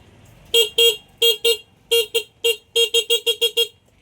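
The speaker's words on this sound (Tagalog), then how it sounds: "Okay na yung horn niya." A repaired motorcycle horn fitted back to stock without a relay sounds in a quick series of about thirteen sharp honks, loud and close, in uneven short bursts.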